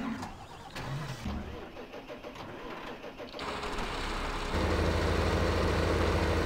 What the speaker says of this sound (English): This truck doesn't sound too good.